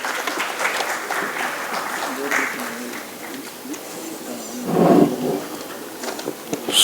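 Audience applause at a Hindi poetry gathering (kavi sammelan) held by photographers' and cycle traders' associations, a sustained clapping swell that fades and then briefly rises again, with some voices mixed in.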